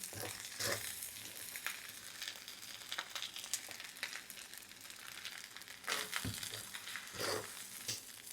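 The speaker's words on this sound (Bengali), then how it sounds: "এটা ভাজতে ভাজতে দেখবেন এক সময় ঝরঝরা হয়ে গিয়েছে" Leftover pulao rice frying in a pan with a little oil, a steady crackling sizzle with bursts of stirring and scraping, no voices over it.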